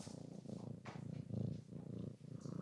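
A cat purrs close to the microphone, a soft rhythmic rumble pulsing with each breath in and out, quiet and steady with no voices.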